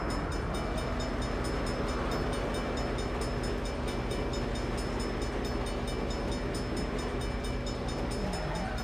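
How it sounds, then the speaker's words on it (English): A train in Saints Row (2022 reboot) rumbles steadily past at close range, a continuous loud roar with faint rhythmic clatter and a sustained tonal hum, lasting throughout. "Hell of a time for a train."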